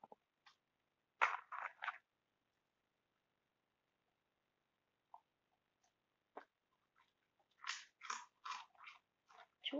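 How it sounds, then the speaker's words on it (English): Someone chews loudly with an open mouth, producing scattered bursts of wet crunching and smacking, close up, separated by quiet pauses. "Chew with your mouth shut."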